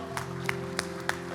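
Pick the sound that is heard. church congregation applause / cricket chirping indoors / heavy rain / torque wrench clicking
church congregation applause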